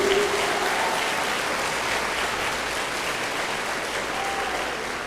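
Church congregation applauding loudly during a worship service, a steady dense wash of clapping that holds for several seconds, with faint voices and a cheer underneath.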